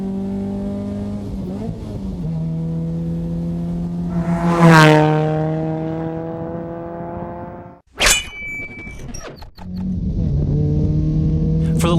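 An Ecotec-engined Miata is driven hard on a race track: the engine drones and climbs through the revs, sweeps up to a sharp high-rev peak, drops away on a shift or lift, then builds again.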